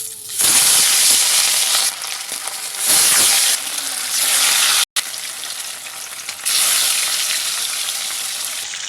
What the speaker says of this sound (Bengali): দেখুন তেল গরম হয়ে গেছে, এবার আমি এক এক করে মাছগুলো দিয়ে দেবো।